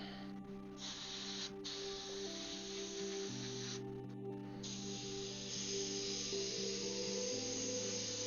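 An airbrush sprays paint thinned with thinner, giving a steady close hiss that runs continuously with a few brief breaks, alone with no talking.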